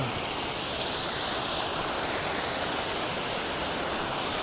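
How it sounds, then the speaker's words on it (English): Ocean waves and surf wash in a dense, steady roar, loud and close throughout with no pauses and no voices. "Left that little bit of recording with just the waves so I can maybe use that sound later for something"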